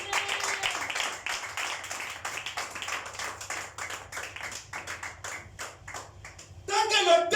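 A church congregation claps and cheers in a busy, uneven patter of many hands throughout, with voices shouting and talking across it, swelling louder near the end.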